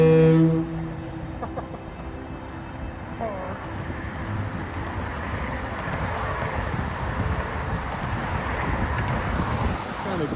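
Foghorns sound at the Golden Gate Bridge on a foggy, gloomy day: a low steady horn tone opens, heard from a moving vehicle through strong wind noise and a constant rumble.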